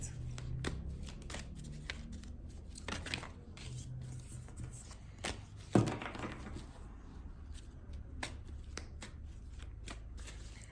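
Tarot cards are shuffled and handled at close range in a Turkish scorpio horoscope reading, with soft repeated riffling, taps and flicks and one sharper slap midway, under a low room hum.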